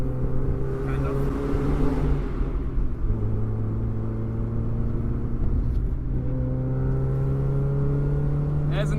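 A modified Mazda MX5 NA Miata engine drones from inside the car while driving, its pitch shifting as revs change, with occasional voices over the steady engine note.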